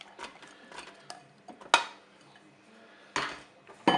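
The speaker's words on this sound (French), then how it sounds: "je vais déposer dans un premier temps mes courgettes coupées en rondelles" Courgette rounds are set one by one into the oiled Cookeo pot: a series of light clinks, taps and scrapes against the metal bowl at irregular intervals, close and fairly quiet, with no talking.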